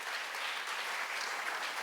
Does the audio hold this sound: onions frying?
no